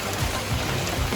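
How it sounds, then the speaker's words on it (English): Rain falls steadily outdoors as an even, soft broadband hiss with faint low patter and nothing else audible. "it is raining"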